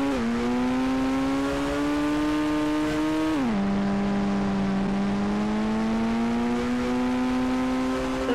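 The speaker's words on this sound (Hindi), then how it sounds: "क्या आवाज़ है लैम्बोर्गिनी का" Lamborghini engine revving hard in a video game, a steady high-pitched sustained roar that dips briefly at a gear change before climbing again, loud and continuous with no talking.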